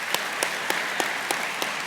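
A small audience claps in a slow, even rhythm, about six distinct, crisp claps spaced evenly, with no talking over them.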